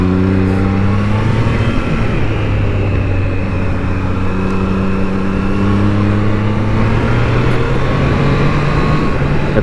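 A Triumph Trident 660 motorcycle on the move, its engine a loud steady drone with gradually shifting pitch as the revs rise and fall, mixed with wind rush and no talking.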